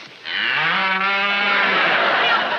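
A cow gives one long, loud, close moo that swells and holds for over two seconds, with no other sound around it.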